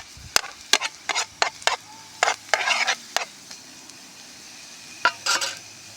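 Onions cooking in a pan in a garden kitchen are stirred in a series of sharp scraping and clanking strokes, irregular and close, over a faint steady sizzle with no talking.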